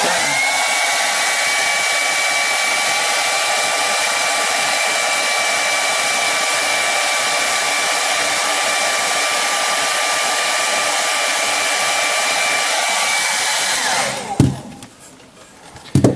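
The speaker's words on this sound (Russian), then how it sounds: "Возьмем обычный фен ставим максимальную температуру." A household hair dryer set to maximum temperature blows in a loud, close, continuous whine for about fourteen seconds, then cuts off with a brief clunk and handling noise.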